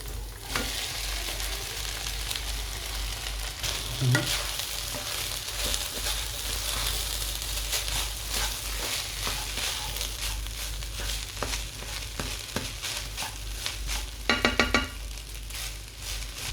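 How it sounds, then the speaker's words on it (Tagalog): Rice being stirred into a sizzling biryani pan: a steady loud frying hiss with scraping stir strokes throughout, and a brief burst of clinking and scraping near the end. "Ngayon ihahalo na natin yung kanin"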